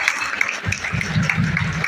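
Applause at a B.Ed college event in Patna, a short burst of clapping that swells after a brief lull, with a low murmur of voices underneath.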